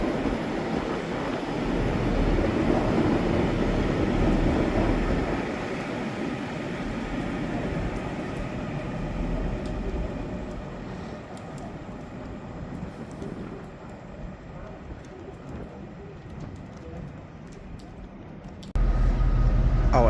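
Class 397 passenger train 397004 running from Edinburgh to Manchester Airport passes at Carlisle station, a broad steady rumble and rush lasting the whole stretch, easing off midway before a sudden louder burst near the end.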